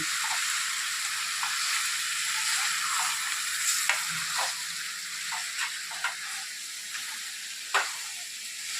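Chicken pieces seasoned with salt and turmeric sizzle steadily in a pan, a continuous bright frying hiss broken by a few soft clicks and stirring taps, close and moderately loud with no talking.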